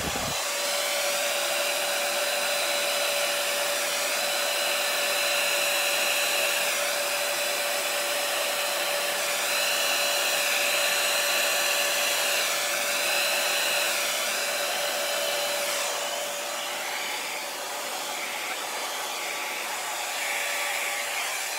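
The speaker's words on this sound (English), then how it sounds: "I'm not that happy with this dryer." A hair dryer runs steadily and loudly throughout with a constant whine and rushing airflow, with slight shifts in pitch as it is moved, and no talking.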